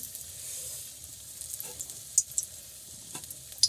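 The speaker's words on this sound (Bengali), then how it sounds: "এখন ধনে পাতার চপ তৈরি হচ্ছে" Coriander leaf fritters (dhone pata pakora) frying in hot oil, a steady sizzle with small crackles and pops.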